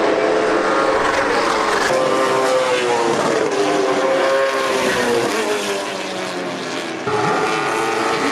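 A race car lapping Martinsville Speedway, its engine droning steadily with shifting pitch as it accelerates and lifts through the corners, loud and continuous throughout, heard from close by.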